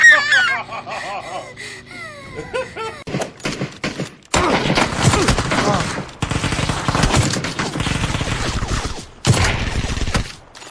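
Video game gunfire rattles in long, loud bursts of rapid shots, preceded by squawky honking sounds, with voices underneath.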